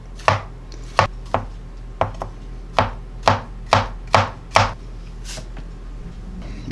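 A knife halving washed mushrooms on a cutting board, about ten crisp chops landing one after another at an irregular pace, close and clear with no talking.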